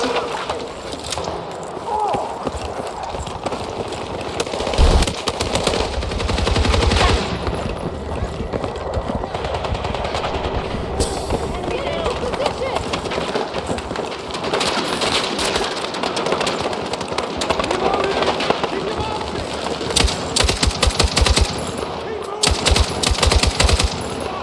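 Machine gun fire in the video game Battlefield 6, with repeated rapid bursts and single shots over a busy combat din throughout, and brief voice callouts mixed in.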